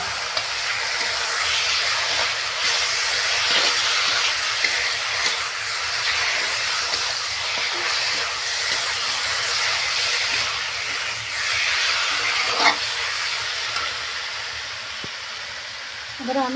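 Mutton frying in a pan for kosha with tomato already cooked in, a steady broad sizzle and hiss with scraping stirs throughout, moderately loud and close.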